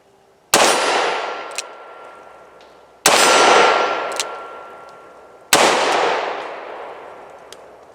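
A Smith and Wesson Governor revolver fires triple-aught buckshot, with three loud, sharp reports about two and a half seconds apart, each ringing out with a long decaying echo.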